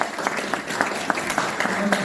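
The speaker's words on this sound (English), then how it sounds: "Please give a big round of applause." An audience at a Ramayana storytelling competition welcomes a judge with a brief burst of clapping, individual claps standing out in a short, uneven rhythm under some background voices.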